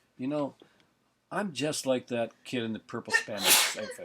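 A single sharp sneeze bursts out near the end, amid a person talking casually about childhood cartoons.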